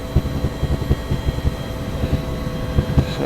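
Huey UH-1 helicopter at full rotor RPM lifting off in the DCS World flight simulator, a loud steady rhythmic blade thump and engine drone continuing throughout, no talking.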